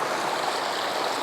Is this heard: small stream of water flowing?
yes